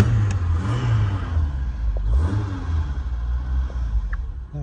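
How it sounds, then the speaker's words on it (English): A 2.0-litre Ford Cortina MKV Ghia automatic idles with a steady low rumble, close and fairly loud, holding an even tone with a slight rise in revs around the middle. "now we're going to have a little listen to this engine"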